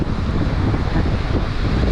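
Wind and ocean surf on the rocky coast at Nugget Point, New Zealand, make a steady, loud broadband rush with no clear breaks for the full two seconds, and no voices cut through.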